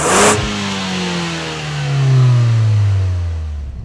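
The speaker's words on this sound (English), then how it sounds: "The engine is by far the torquiest here, and it feels like it, and it makes a great noise when you're on throttle." A Ford Fiesta ST engine revs hard on throttle during a track test, a loud rising drone with clear harmonics after a brief burst of noise at the start, sustained and close throughout.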